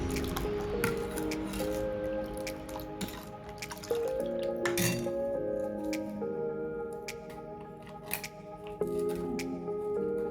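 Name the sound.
stirring juice with ice cubes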